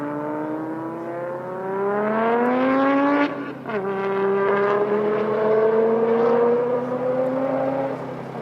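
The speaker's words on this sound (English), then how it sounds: "Let's listen to this Audi Quattro." An Audi Quattro race car at Pikes Peak revs up loud and near, its engine note climbing through the gears, dipping at a shift, then pulling steadily higher again with no talk over it.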